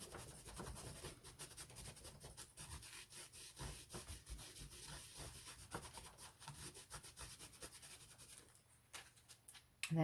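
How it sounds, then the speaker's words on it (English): Paint dabbed and rubbed through a stencil onto an art journal page makes a continuous close scratchy scrubbing, quick irregular strokes that soften near the end. "put your stencil where you want it and just dab it and rub it through"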